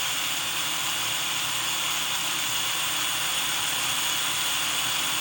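A drill bit boring a starter hole while making chainmail jump rings gives off a steady, continuous whine and grinding hum that holds evenly for the whole stretch, close up, with no voices.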